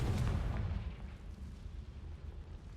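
The Confringo fire spell explodes in Hogwarts Legacy with one deep, muffled boom that rumbles and fades over a few seconds, moderately loud with no talking.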